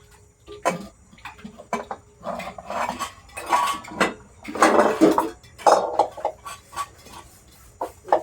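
Scattered scraping and clattering of a metal kadai being scrubbed with soap and handled, uneven bursts with short pauses, close by.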